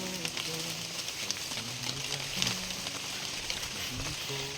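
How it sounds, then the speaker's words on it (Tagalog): Rain falls in a dense forest, a soft continuous patter with scattered drop ticks, while people talk quietly in the background. "Ulan."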